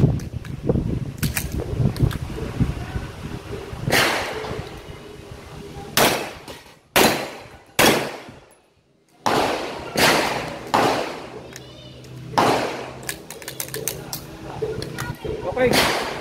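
A Metrillo 9mm pistol fires on a shooting range, with sharp loud reports in quick strings and short pauses between volleys. Someone talks briefly around the shots.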